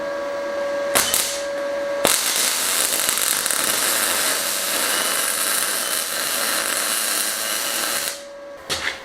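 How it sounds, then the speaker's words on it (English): Welding a steel plate in place: a short tack burst, then a steady, loud electric buzzing and crackling bead lasting several seconds, ending with two more brief tack bursts, with no talking. "So I'll get him tacked in and then welded up."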